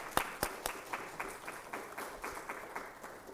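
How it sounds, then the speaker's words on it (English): Sparse, slow clapping from a small audience at a capstone symposium welcome, individual claps distinct and somewhat distant, fading after a few seconds. "I want to just give you a round of applause for being here."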